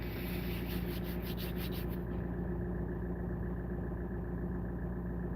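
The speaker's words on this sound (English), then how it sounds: "That airplane's making a weird noise, Kens." Airliner engines spooling up for landing, heard as a steady low, droning hum with a brief higher whine that fades out partway through, continuous and moderately loud.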